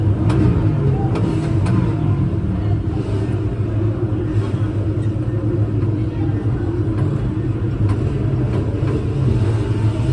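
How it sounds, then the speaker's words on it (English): Steady low engine rumble of a car in a NASCAR racing simulator, droning continuously at a constant level, warming up while waiting on the grid, with faint background voices. "Just warming up the engine."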